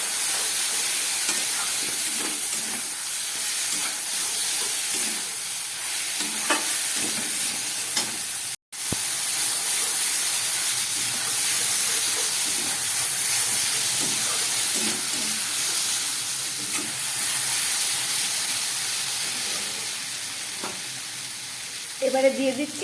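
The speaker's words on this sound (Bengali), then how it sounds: "পেঁয়াজ কাঁচা লঙ্কা রসুন দিয়ে আর নুন হলুদ দিয়ে খুব ভালো করে এটাকে কষিয়ে নিচ্ছি" Onion, green chili and garlic sauté with salt and turmeric in a hot pan, giving a steady, loud sizzle and hiss that runs almost unbroken, with faint stirring scrapes.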